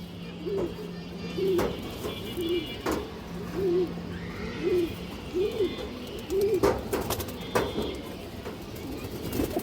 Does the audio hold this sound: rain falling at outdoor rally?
no